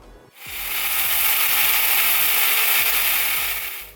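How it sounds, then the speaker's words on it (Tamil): A kitchen mixer grinder whirs at high speed grinding roasted dried curry leaves into powder, starting abruptly after a brief pause, running as a loud, steady rattling roar with a repeated clicking churn, then cutting off at the end. "இப்போ இதை ஒரு மிக்சர் கிரைண்டரில் பொடியாக நம்ம அரைச்சிடுவோம்"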